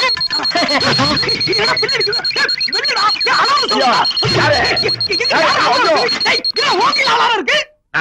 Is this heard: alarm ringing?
yes